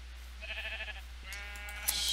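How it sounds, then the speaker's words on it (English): Sheep bleating in Minecraft, two clear, fairly close bleats in a row over a low steady hum. "Any more sheep?"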